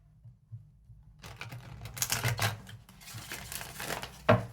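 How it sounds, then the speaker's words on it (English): A deck of tarot cards being shuffled lightly, soft riffling and flicking bursts after a short quiet start, close up, ending in a sharper tap of the cards. "Try to shuffle it a little bit lighter so I don't damage the cards"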